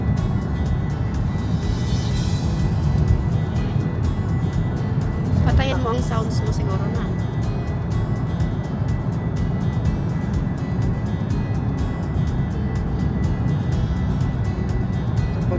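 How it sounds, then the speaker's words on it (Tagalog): Cars moving at about 40 miles an hour on the M6 motorway, a steady road rumble heard from inside a vehicle while people talk throughout. "Medyo mahina ang takbo ng mga sasakyan. Nasa 40 miles an hour lang."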